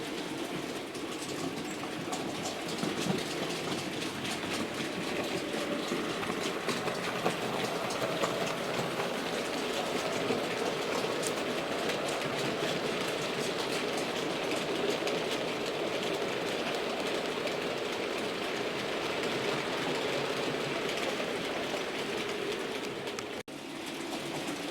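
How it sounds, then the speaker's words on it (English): A Hornby R3548 model locomotive runs along the back straight of a layout, giving a continuous, even whirring rumble of wheels on track that holds steady throughout, with no talk. "here comes the loco down the back straight"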